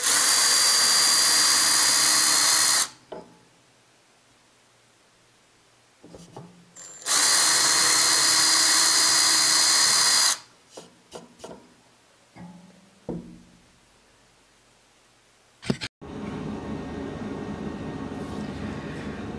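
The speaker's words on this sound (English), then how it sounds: "going to drill my pilot holes carefully, making sure I don't go all the way through." Loud, whining power drill drills pilot holes in two long bursts with quiet pauses between, then light clicks and handling noises, and a final burst of drilling.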